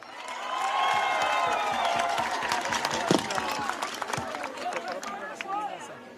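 A crowd applauds municipal police at an outdoor gathering during a presidential visit in Mayotte, scattered clapping mixed with cheers and chatter, rising early then thinning, with voices heard throughout.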